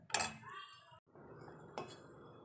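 Milk custard being stirred in a pot as it thickens, a spoon scraping and knocking against the metal, with a sharp clink near the start and another near the end over steady low scraping.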